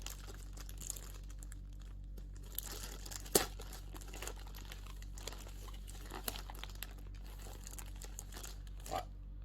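Strong packing tape is pulled and torn off a delivered parcel, producing quiet close crinkling and ripping with one sharper snap amid soft rustling.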